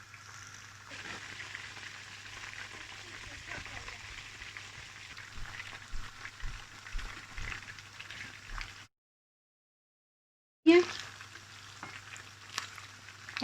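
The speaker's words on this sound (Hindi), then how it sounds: "अब इसको सुनहरा होने तक इधर वेट करेंगे और इधर ही पकाएंगे इसको।" Chicken frying in oil in a pan, a soft continuous sizzle and crackle with faint low thumps, briefly cutting out before the frying resumes.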